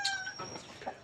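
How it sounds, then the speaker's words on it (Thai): Chickens at Wat Pong Chai, a Thai temple grounds, give a short burst of clucking and fowl calls, near and moderately loud, over light outdoor background noise. "ก็ไก่มาจับจองแล้ว"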